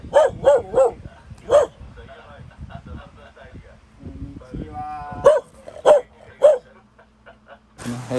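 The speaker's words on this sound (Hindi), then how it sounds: "इधर कुत्ता भी भौंक रहा" A dog in a rural Japanese village barks in short bursts, three quick barks, then one more, later three further barks, fairly close, while someone talks in between.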